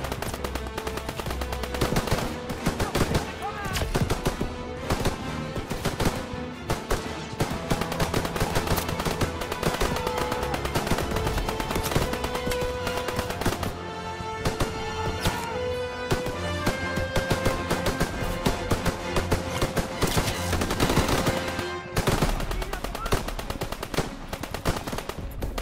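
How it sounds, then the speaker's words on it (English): Gunfire in a Call of Duty WWII battle, dense rapid bursts of machine-gun and rifle shots rattling almost without pause throughout, loud and close with clashing background noise. "Where's all this other fire coming from?"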